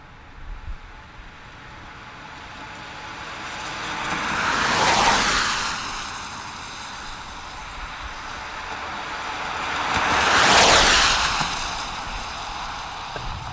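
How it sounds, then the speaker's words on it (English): Two cars pass one after another, each swelling from a faint hiss to a whooshing peak and fading away, with quiet road noise between. "So we'll let a couple cars pass and check it out."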